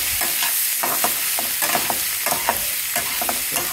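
Snake gourd (potlakaaya) frying in a pan, a steady close sizzle with repeated scraping stirs of a spatula running through it, no talking.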